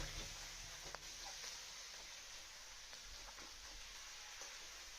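Vegetables and spinach, with potato, beans and eggplant, frying in a pan for a Bengali spinach dish, giving a steady broadband sizzle throughout with a few faint stirring clicks.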